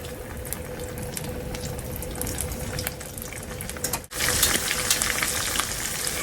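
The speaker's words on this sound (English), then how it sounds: "We're going to cook them until they are golden brown on both sides." Black-eyed pea patties fry in a pan with a steady, close sizzle that holds throughout. It cuts out for a moment, then returns louder and brighter, with no talking.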